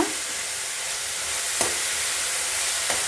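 Coriander and fenugreek leaves fry in a pan for a chickpea chicken curry, giving a steady close sizzling hiss with a couple of faint soft stirring knocks and no voices.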